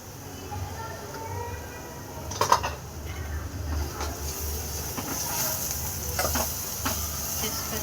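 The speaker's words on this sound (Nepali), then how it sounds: "त्यही भएर चाहिँ अहिले आलुलाई पनि भुटौँ है।" Potatoes and turmeric fry in a pan, a low steady sizzle broken by clinks and scrapes of a spoon stirring, with a sharp clatter near the middle and faint talk underneath.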